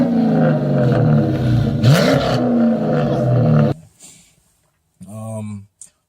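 Hemi V8 car exhaust fitted with Flowmaster Super 10 chambered mufflers, a deep loud rumble and rising rev for several seconds, then cutting off, followed by a brief second burst of revving.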